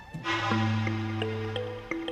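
A water jug (galão) is filled from an open tap in Cabo Verde, a steady rising gurgle of water running into the container, close and continuous over about two seconds.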